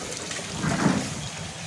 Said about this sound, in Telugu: సింహం నోట్లో నుంచి వాటర్ వచ్చేస్తుంది